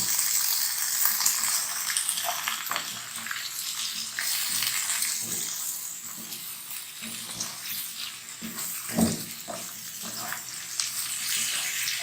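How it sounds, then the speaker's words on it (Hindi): Potatoes with spices frying in a karahi: a continuous hiss of sizzling oil with scattered scrapes and stirring knocks, fairly close and without voices. "मसाले के साथ आलूओं को अच्छी तरह से थोड़ा सा भूनेंगे"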